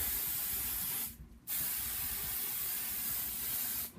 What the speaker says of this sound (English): Once I've got that down, I can spray it again.